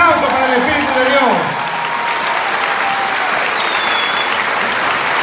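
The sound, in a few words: audience applause in church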